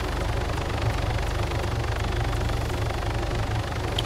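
Helicopter flying in the video game ArmA 3: a steady, droning rotor and engine hum with a low rhythmic thump, unbroken and fairly loud, with no talking.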